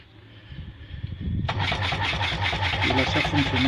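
A Gardena 3000/4 hydrophore water pump switches on after low rumbling and talk, its motor then running with a steady, loud mechanical whine and rattle, close up.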